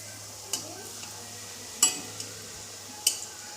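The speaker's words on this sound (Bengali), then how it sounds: "এই দেখো, আমি কিন্তু ধোকাগুলো খুব ভালো করে ভেজে নিচ্ছি।" Bengali dhoka, lentil cakes, fry in a pan with a low, steady sizzle. A few sharp metallic clinks of a utensil against the pan ring out at intervals.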